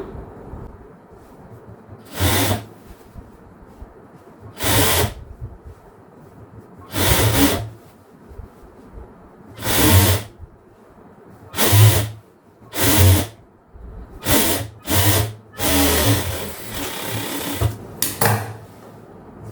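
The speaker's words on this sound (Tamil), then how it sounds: "இப்போ மெயின் கிளாத்தில் நம்ம தையல் போட்டுக்கலாம்" Sewing machine stitching the main cloth of a half-circle maxi dress, running in short bursts of rapid whirring stitches separated by quiet pauses, close and fairly loud, with no talking.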